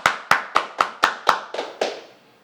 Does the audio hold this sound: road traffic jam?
no